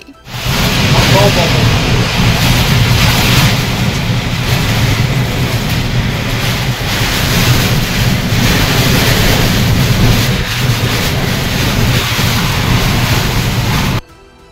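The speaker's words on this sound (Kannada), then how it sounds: "ಒಮ್ಮೆಲೆ ಬಂದ ಬಿರುಗಾಳಿ" A violent gale roars in a rainstorm, a loud, unbroken rushing wind that buffets steadily for about fourteen seconds and then drops off abruptly.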